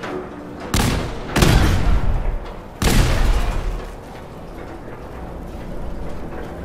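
Bombs go off in Fallout 4: three loud, rumbling explosions arrive in quick succession, each a sharp blast that decays into a long roar, followed by lingering crackle and low background noise.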